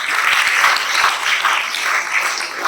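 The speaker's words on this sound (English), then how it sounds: "So we can applaud for all the teachers." An audience at a health awareness and career counseling seminar applauds the teachers with dense, sustained clapping that fills the room, close and loud, with no talking over it.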